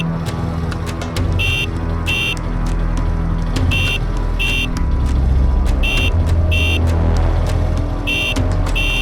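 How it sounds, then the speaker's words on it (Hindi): A motorbike horn honks repeatedly in short bursts over a busy road scene with a rumbling engine, the toots loud and close with brief gaps between them. "वो बाइक वाला बार बार हॉर्न बजा रहा था।"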